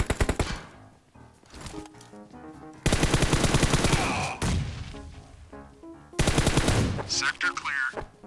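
Loud, close automatic gunfire in PUBG Mobile comes in two long rapid bursts, with scattered single shots and impacts between them.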